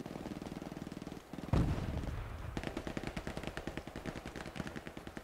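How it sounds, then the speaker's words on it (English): Enemy machine-gun fire in Hell Let Loose, a World War II shooter, sounds as sharp rhythmic bursts of evenly spaced shots, punctuated by one heavy nearby blast and then a steady, fairly distant automatic rattle. "Oh, they're shooting me."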